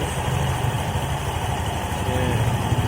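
Automatic scooter CVT running after greasing, a steady, fairly smooth mechanical engine hum with a light whirring texture, close and continuous with no talking.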